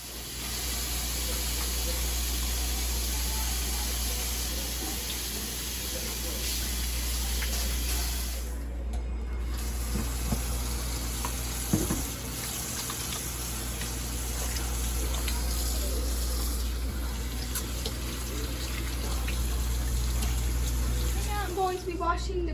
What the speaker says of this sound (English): Going to be washing the corn on the cob